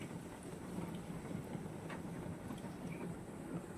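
Heavy rain pours steadily, a dense broad roar with a low rumble beneath it, continuous and without any talking.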